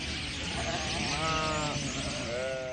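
A herd of sheep in the Kiskunság grasslands bleats several times over a constant noisy outdoor background, with overlapping calls from a few animals at moderate distance.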